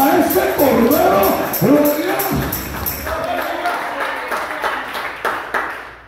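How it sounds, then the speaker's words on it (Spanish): A church congregation claps along after a preacher's voice, a steady patter of many hands that follows the speech and gradually fades, with a faint voice over it. "démosle palmas a ese cordero"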